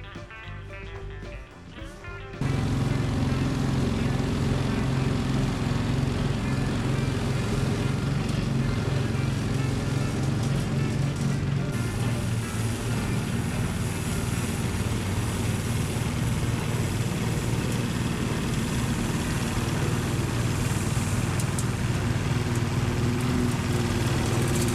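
An Allett C34 mower fitted with a brush cartridge is brushing sand into turf, starting with a short burst of handling noise and then settling into a loud, steady motor whine with a gritty brushing hiss that runs to the end.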